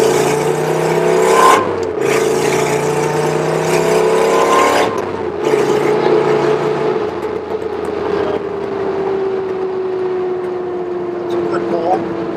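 Porsche or Corvette sports car engine pulling hard under acceleration from inside the cabin, a steady rising drone with gear changes, continuous and close, with someone talking over it.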